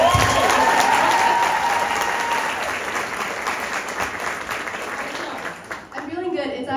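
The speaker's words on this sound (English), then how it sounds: "round of applause to you" An audience at a book tour event in Chicago breaks into loud, dense applause that gradually thins and fades, with a voice coming in near the end.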